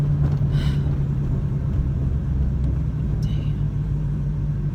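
Continuous low rumble of car traffic on a road near the beach, heard from inside a stopped vehicle with a steady droning hum, while a person briefly speaks over it.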